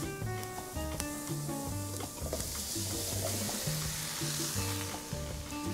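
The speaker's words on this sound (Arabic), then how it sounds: "هشوح كل هالبهارات مع البصل." Spices and onion sauté in a pot, a loud steady sizzle with repeated scraping and stirring strokes of a utensil close by, with no one speaking.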